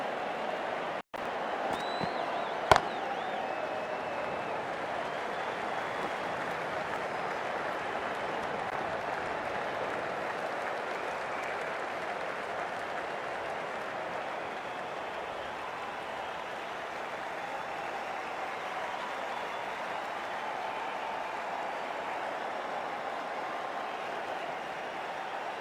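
Cricket stadium crowd at an IPL match between Chennai Super Kings and Punjab Kings applauding a departing batter, a steady distant wash of clapping and crowd noise sustained throughout at moderate level.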